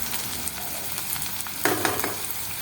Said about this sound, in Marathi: छान फ्राय करून घेते। फ्लेवर त्याचा कांद्यामध्ये उतरला पाहिजे।